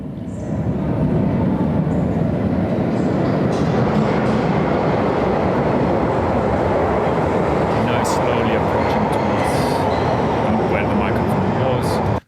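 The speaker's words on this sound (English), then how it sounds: "we just see the train here exiting, like the first appearing from the tunnel" A train emerging from a tunnel roars past close by with a steady, loud rumble and rattle of wheels; a voice speaks faintly over it.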